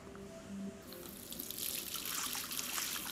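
In the Life is Strange video game, a tap runs with a steady, close rush of water that grows stronger after a brief start, with no one talking.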